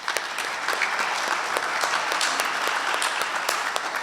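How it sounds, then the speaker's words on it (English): A luncheon audience at a scholarship event breaks into steady applause, a dense continuous clatter of many hands with a few sharper individual claps standing out throughout. "I think that's a clap right there."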